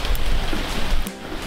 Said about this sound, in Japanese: 雨が飛んできます